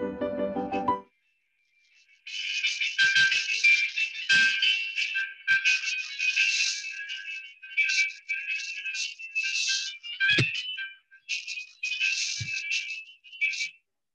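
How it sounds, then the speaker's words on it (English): Music plays for a headphone user test, a bright, tinny melody of repeated high tones with short gaps, like sound leaking from headphones, heard alone after a brief low passage at the start. "I'll start playing the first song."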